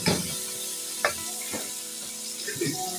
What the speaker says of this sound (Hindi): इनको भी फ्राई कर लेते हैं।